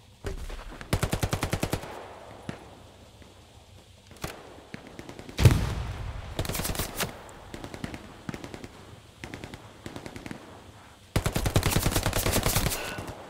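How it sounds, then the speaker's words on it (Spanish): Bursts of rapid M1 rifle gunfire in the video game Hell Let Loose, loud and close, coming in several volleys with single shots and quieter gaps between. "Aquí escucho yo tiros de una M1, no pueden estar lejos."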